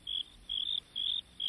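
Crickets chirp four times in a steady, evenly spaced rhythm: faint, high trills over a quiet background.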